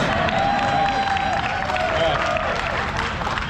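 Loud applause from a crowd at a ribbon-cutting ceremony at the Navistar International Trucks manufacturing plant in San Antonio, with cheering and a sustained whistle-like tone running over the clapping.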